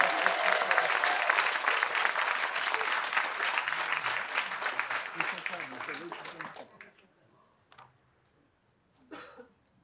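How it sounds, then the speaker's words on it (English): Audience applause at a Freedom Fund dinner, a dense sustained clapping that fills the room for several seconds before fading out, followed by scattered coughs and throat clearing in the quiet. "We already did this, but I think we also need to clap for Cliff, who put this all together."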